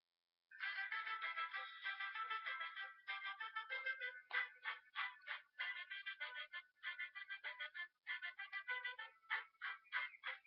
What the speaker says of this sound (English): The next one is a new ringtone called Chicken Dance.